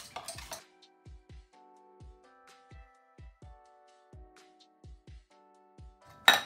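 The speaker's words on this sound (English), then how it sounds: "Whisk that together." Egg yolks and sugar being whisked in a bowl: a string of separate, ringing metal clinks at an uneven pace, close by, with no talking.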